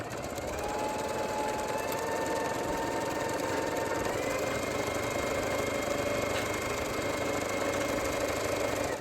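Sewing machine running a zigzag stitch on a zipper pouch, a steady continuous mechanical whir with a fast repetitive needle rhythm, close and even throughout with no talking.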